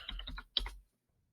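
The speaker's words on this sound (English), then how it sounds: "I'm going to type in, I'm going to do a search again." A short burst of typing on a computer keyboard while entering a search, a quick run of close key taps followed by silence.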